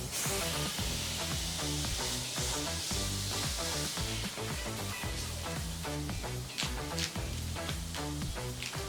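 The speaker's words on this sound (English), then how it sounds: "So now for the final stage of this recipe, we're gonna go cook our beef patty." A beef patty for a smash burger fries on a hot surface, giving a steady, loud sizzle and crackle that runs continuously with no one talking.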